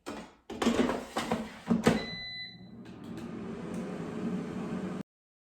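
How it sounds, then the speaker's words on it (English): Air fryer with frozen salmon bites: a few clattering knocks as the basket slides back in, then a steady low fan whir and hum running on for a few seconds before cutting off. "it's time to put them back in the air fryer and let them finish cooking"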